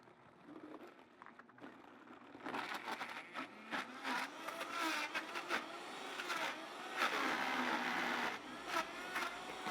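A Vitamix Ascent X2 blender whirs loudly through a thick acai smoothie bowl blend after a quiet start, its motor note rising and straining in uneven surges as the frozen mix churns.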